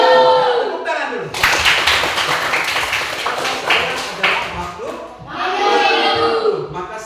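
A classroom of students clapping their hands together in a burst of applause, fairly loud and busy, with a teacher's voice speaking over it before and after.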